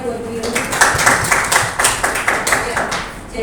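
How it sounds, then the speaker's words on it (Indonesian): A small audience claps for Bu Yuni at a school teachers' session, a short burst of uneven, close hand claps with a voice talking over it. "Mohon tepuk tangannya buat Bu Yuni"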